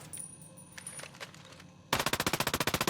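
Flycatcher's P90 boss gun in Ghost Recon Breakpoint lets loose a sudden, loud burst of rapid full-auto fire, a steady rattling stream of shots, after a stretch of quieter ambient game noise with scattered faint clicks.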